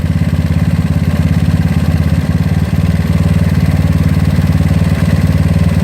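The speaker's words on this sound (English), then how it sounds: "You can hear the engine." A GY6 scooter engine with a 30 mm OKO PWK carburetor idles steadily up close, a loud, even chugging rumble with a slight uneven beat.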